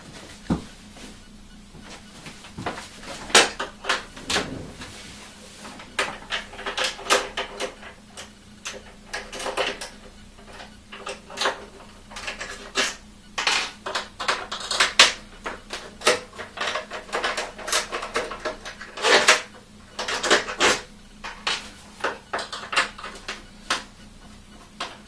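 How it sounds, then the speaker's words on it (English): A small Phillips screwdriver works seven screws out of a PS3 shell, giving sparse faint ticks at first, then a busy run of dry clicks and ratcheting scrapes, close up, with no talking. "you're going to use your little Phillips screwdriver."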